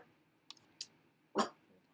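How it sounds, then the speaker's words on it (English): A household dog gives three short sharp barks in quick succession, the last one loudest and closest, in an otherwise quiet indoor room. "Hold on, my dog."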